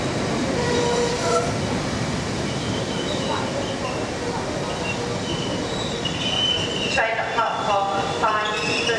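Train at a platform in Doncaster station, a Northern service, with loud steady rumble and rolling wheel noise throughout, squealing wheels and brake tones rising near the end, and faint platform announcement speech mixed in.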